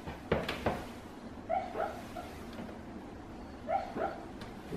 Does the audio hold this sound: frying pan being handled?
no